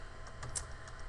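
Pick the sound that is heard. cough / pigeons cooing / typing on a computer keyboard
typing on a computer keyboard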